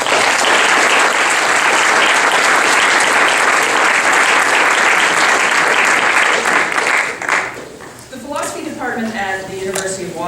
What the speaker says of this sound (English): So can I ask for a round of applause for these?